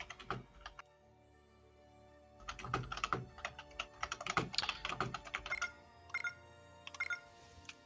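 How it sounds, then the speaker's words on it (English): Rapid clatter of typing on a computer keyboard, close and fairly quiet, starting with a short burst, pausing, then a longer dense run of keystrokes with a few scattered taps at the end; no talking. "Excuse the typing."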